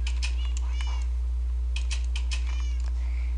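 A house cat meows several times in a row indoors, with short drawn-out cries in two bursts over a constant low electrical hum.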